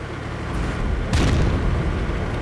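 An artillery shell explodes in the tank game World of Tanks, a loud, close boom with a sharp crack that dies into a rumbling tail over steady engine noise, no speech.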